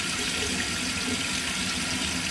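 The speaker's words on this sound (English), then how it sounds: "Hopefully you can hear me with the water on." Tap water runs steadily into a sink in a home bathroom, a close, continuous broadband rush with no pauses and no talking over it.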